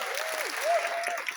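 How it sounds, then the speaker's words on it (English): Audience applause at a Comic Con Wales 2024 Arrow convention panel: steady, crowded clapping that fills the room, with a drawn-out whoop or cheer rising and falling over it. "Keep the applause going"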